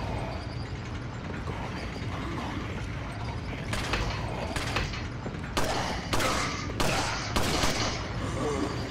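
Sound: gunfire in video game Resident Evil 4

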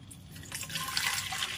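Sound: water being poured into a spray bottle

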